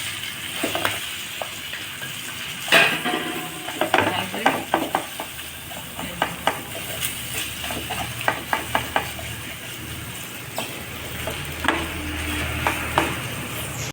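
Chicken samosa filling spiced with ginger-garlic paste, chilli and cumin frying in a pan, a continuous sizzle punctuated by repeated sharp spoon taps and scrapes against the pan, close and clear.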